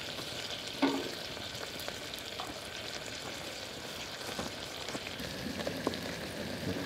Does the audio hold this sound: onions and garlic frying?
yes